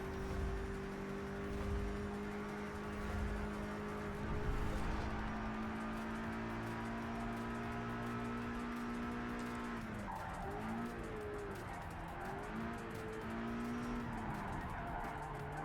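A race car lapping a track in Project CARS 3, its engine droning steadily and close as it shifts through gears, with tire squeal and skidding through the corners.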